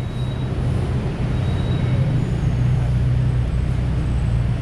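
A Bangkok BTS elevated sky train rumbles past overhead on a busy morning street, a loud, continuous roar blending with heavy traffic noise throughout.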